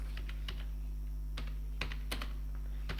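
Someone types a password on a Windows computer keyboard: a dozen or so sparse, quiet clicking keystrokes over a low electrical hum, with no talking.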